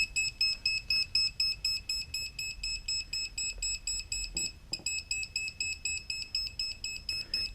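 An AC voltage tester pen held along a live wire gives a steady run of rapid, high-pitched electronic beeps that repeat evenly throughout, with no talking.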